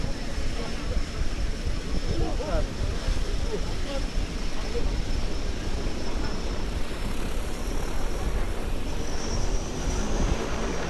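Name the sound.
seaplane engine noise leaving the harbor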